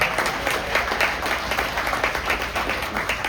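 A large crowd at a drag racing hall of fame induction ceremony applauds steadily, a dense even wash of clapping that lasts throughout.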